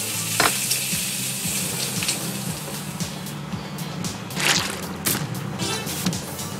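A frying pan sizzles on a still-hot stove in the Masyanya video game, with a steady crackling fry that runs throughout and occasional louder spits and bursts, heard alone.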